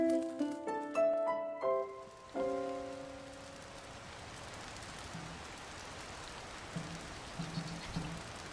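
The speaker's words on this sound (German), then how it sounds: "Warum regnet denn das immer weiter?" In The Legend of Zelda: Tears of the Kingdom, a few bright tonal chimes ring out at the start, then a soft, steady patter of rain continues on its own at low volume.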